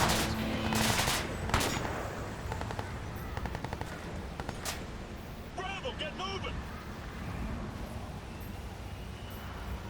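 Bursts of automatic gunfire in the shooter game Crysis 3, with loud clustered shots early and scattered firing later amid busy game noise, under a voice.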